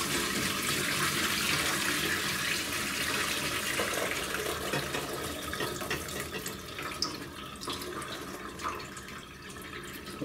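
Water carrying loose pomegranate seeds is poured into a kitchen sieve, a steady close splashing gush that runs for about ten seconds and tapers into trickles and drips near the end.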